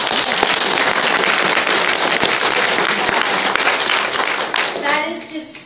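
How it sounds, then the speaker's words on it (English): Audience gives a round of applause for Lindsay, dense close clapping filling the room before fading near the end as a voice comes in. "Another round of applause for Lindsay."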